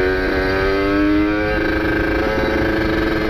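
A two-stroke motorcycle idles with light throttle blips, a steady buzzing engine tone that rises slightly in pitch and then settles, close and continuous.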